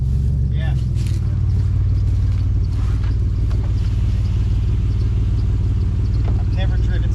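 A heavy engine in a 2004 Ford Explorer being driven drones steadily and loudly throughout, with rattling and clatter over the constant low rumble.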